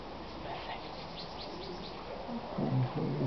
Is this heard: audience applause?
no